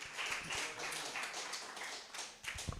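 A church congregation applauds in praise at a Brazilian family service, a steady dense wash of clapping lasting throughout, fairly distant and even in level with a brief lift near the end.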